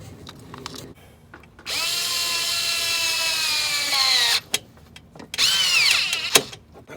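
A power tool tightens a hose clamp on the intercooler pipe of a 7.3 Powerstroke diesel, giving two close, loud bursts of whining motor. The first is longer and its pitch sags at the end; short clicks and knocks come between them.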